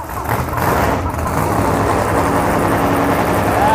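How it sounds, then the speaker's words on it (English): A drag racing car engine fires up at a pro-class qualifying session at Indy, a loud, steady, broadband roar that holds throughout with no break. "Pat Peterson power plant has fired up"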